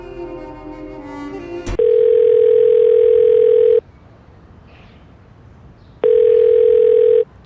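Telephone dial tone heard in a crime drama phone scene: a loud steady electronic tone holds for about two seconds, drops away, then returns for another second, with faint background before it.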